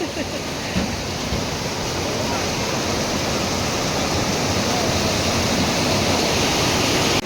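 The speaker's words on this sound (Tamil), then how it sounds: "அந்த அளவுக்கு தண்ணி ஃபாஸ்ட்டாக போகுது நம்ம பின்னாடி." Fast-flowing river water rushes in a loud, steady roar close by, a dense continuous wash with no break across the whole stretch.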